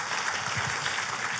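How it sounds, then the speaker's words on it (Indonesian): A church congregation clapping together, a short dense burst of applause filling the room. "Tepuk tangannya yang paling meriah buat Tuhan kita."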